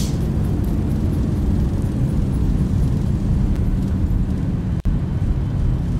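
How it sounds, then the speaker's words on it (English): An airliner landing at Burbank with thrust reversers deployed, giving a steady, loud, broad roar that holds through the rollout, heard up close with no break except one brief dip. "Reversers engaged."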